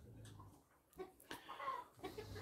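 Chickens cluck faintly in a farmyard, a few short scattered calls over quiet background rustle.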